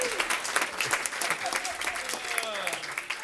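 An audience at a city employee recognition ceremony claps steadily through the whole stretch, and voices can be heard over the applause.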